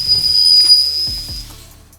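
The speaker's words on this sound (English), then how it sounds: "That was the sound of a giant truck screeching to a halt." A giant truck screeching to a halt as a sound effect: a steady high whistling squeal over airy hiss and low rumble, then a couple of heavy low thuds as it dies away, with no voices.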